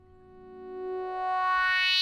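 A single psytrance synth note from Serum, an FM bandpass tone whose filter cutoff opens over about two seconds, growing steadily brighter and slightly louder before cutting off abruptly.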